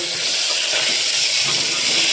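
Eggs frying in oil in a single pot after potatoes for one-pot egg biryani, a loud, close, steady sizzling hiss that stays even and unbroken throughout.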